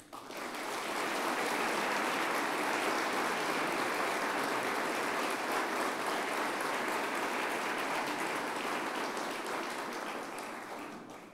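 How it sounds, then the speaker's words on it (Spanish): A crowd in Casa Rosada breaks into sustained applause, steady dense clapping swelling in over the first second and holding loud and even for about ten seconds before easing slightly at the end. "y por quien pido un aplauso"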